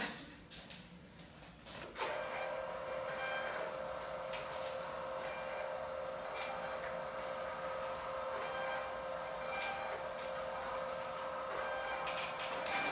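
Printer running steadily after a brief clatter of handling, a continuous mechanical whir with faint repeated clicks, close and alone without talk.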